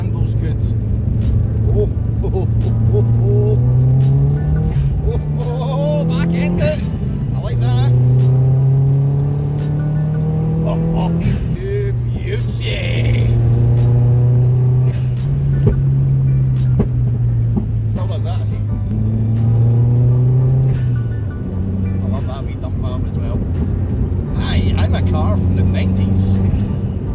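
A Subaru Impreza project car being driven hard, its engine revving up and down through repeated gear changes, loud and close from inside the cabin, with a voice talking over the engine at times.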